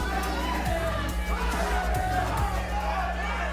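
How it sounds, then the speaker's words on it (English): Crowd at a fight event chanting and cheering in a steady mass of noise, with a commentator's voice audible over it. "The crowd continuing to chant."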